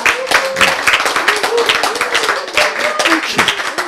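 An audience at a Korean health lecture claps hands in a continuous, brisk patter of many rapid claps, loud and near, with a voice faintly beneath.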